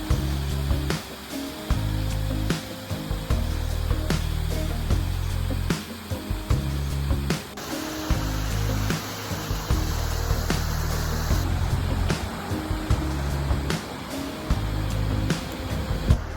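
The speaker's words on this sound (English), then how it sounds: "so this is part of the upper falls for Emery Creek Falls" Rushing water at the upper falls of Emery Creek Falls on a winter hike: a steady broadband roar of falling water, loud and close, continuous throughout with low rumbling and no talk.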